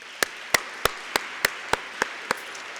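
Slow, evenly spaced single claps, about eight sharp isolated hand claps at a steady pace, sparse and fairly faint against a quiet room rather than a full round of audience applause.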